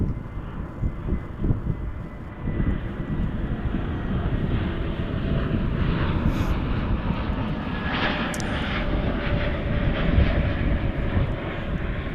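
Airplane arriving at DFW airport, a loud, steady jet engine roar heard from outside, swelling slightly as the aircraft passes, with wind buffeting the microphone.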